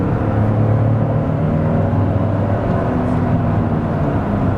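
A 2022 Toyota Tundra in sport mode accelerating: a steady, fairly loud low engine and road drone heard from inside the cab, continuous and even throughout, with no talk.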